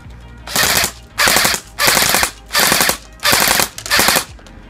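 A Honey Badger airsoft gun firing six full-auto bursts, each roughly half a second long, separated by brief pauses, loud and close with a sharp rapid rattle and no talking.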